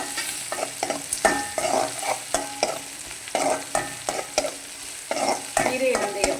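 Onions and sirukeerai greens sauté in a hot pan with a constant sizzle, while a spatula scrapes and stirs in repeated close, rhythmic strokes.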